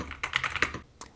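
Quick keystrokes on a Madlions Mad68 HE keyboard with Hall effect magnetic switches, a rapid close-up burst of clacks followed by one final key press.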